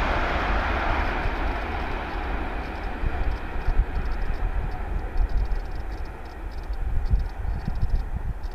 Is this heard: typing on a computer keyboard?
no